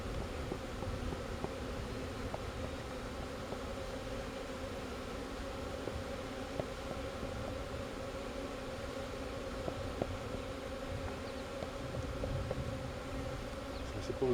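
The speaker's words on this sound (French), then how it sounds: "Toutes les abeilles sont là." Honey bees from a nucleus colony buzz steadily at an open hive, a dense continuous hum that stays close and even throughout, with small rustles and no talking.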